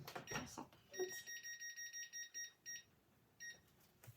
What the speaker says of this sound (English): the 10-minute timer went off